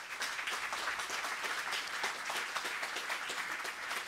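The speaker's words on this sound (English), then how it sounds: "I would suggest a big applause to our speakers and panelists" An audience of a moderated panel discussion on environmental risk assessment claps steadily, a dense, even patter of many hands at a moderate distance with no voices over it.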